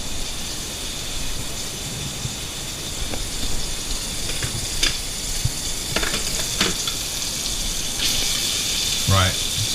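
Five spice duck sizzles in a hot pan as it is sealed, a steady loud hiss and crackle with occasional sharper spits and pops throughout.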